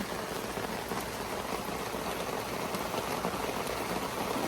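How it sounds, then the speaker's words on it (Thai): Steady rain falling outdoors on a rainy day in Canada, a dense, even hiss of drops with no breaks and no voices. "Nice rain."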